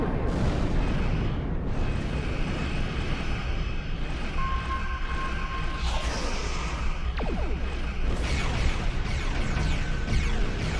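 Continuous rumbling booms and crashes from explosions in the game Star Trek Online, dense and loud throughout, with whooshing bursts layered over a heavy low roar.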